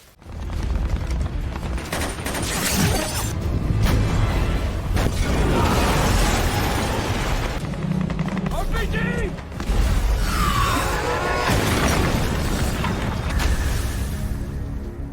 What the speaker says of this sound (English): Andre activates a remote explosive, taking out a portion of the attacking force